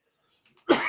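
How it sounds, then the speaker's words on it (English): A single harsh cough from a man with a lingering cough, bursting out loudly and close after near silence. "I still have this cough."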